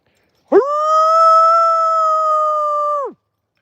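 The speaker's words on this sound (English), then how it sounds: "Mooney might actually howl in a second." A single long, steady wolf howl, close and loud, holding one even pitch for about two and a half seconds before breaking off, alone against silence.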